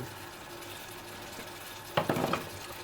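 A quiet, steady sizzle of salted onion frying in a pan, with a few soft scraping stirs near the end.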